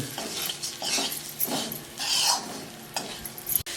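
A spoon scrapes and stirs through thick poha with turmeric, asafoetida and a bowl of liquid in a pan, several uneven strokes close up, with a light sizzle underneath and no talking.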